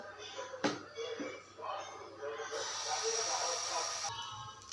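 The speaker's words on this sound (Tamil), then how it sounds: "நம்ம கல் போட்டு சூடாயிருச்சு இப்போ தோசையும் ஊற்றிக்கலாம்" Dosa batter poured onto a hot griddle stone sets off a soft hiss that swells into a sustained sizzle for about a second and a half, fairly quiet and nearby.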